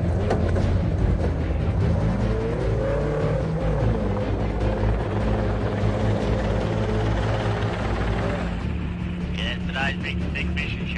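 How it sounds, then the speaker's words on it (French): A helicopter flies during a chase after an 800-kilo wild bull, its engine and rotor making a steady, loud roar that fills the whole stretch, with a brief higher whine near the end. "Un jeune homme dans un hélico."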